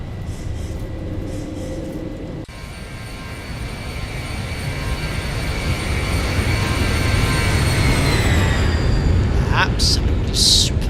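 A Boeing 737 (ZIBO mod) climbing after takeoff in the X-Plane 11 flight simulator during a storm gives a loud, steady engine roar with whining tones that slowly shift pitch, plus a few brief high chirps near the end.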